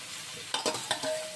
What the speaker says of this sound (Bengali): ভালো করে চিংড়ি মাছ আর ফুলকপিটা কষিয়ে নেব মশলার সাথে।